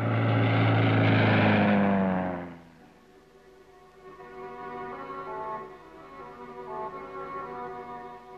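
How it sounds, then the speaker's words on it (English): Propeller-driven Australian Army spotter plane flying over a patrol zone, a loud steady engine drone that swells then drops off sharply and continues as a fainter, distant hum. "Patrol maintains contact with Australian Army spotter planes, or bird dogs, which report back any movement on the ground."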